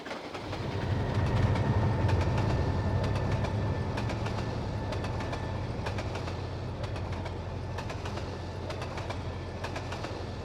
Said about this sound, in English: a trio of E units hustle the train back east